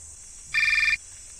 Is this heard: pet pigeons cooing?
no